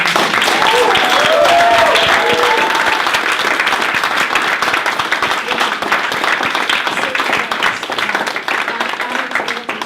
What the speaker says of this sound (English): I want everybody to give a massive round of applause